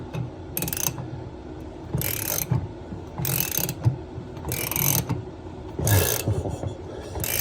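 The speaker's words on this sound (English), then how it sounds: "It's a cool ratchet." A ratchet wrench turning a tight compression ring on a toilet supply valve, with five bursts of close, loud clicking ratchet strokes, each about a second long, separated by short pauses.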